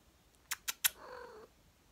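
A cat gives three quick, sharp meow-like chirps, then one longer, drawn-out meow, close and clear against a quiet room with no talking.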